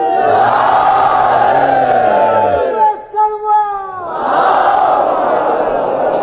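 A large majlis congregation chants the Nara-e-Haidari slogan together, loud and close, as two long sustained collective cries separated by a short pause filled with a few shouted voices.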